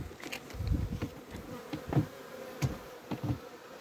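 Honey bees buzz continuously close by at an apiary, several individual drones swelling and fading as they fly past, with no talking.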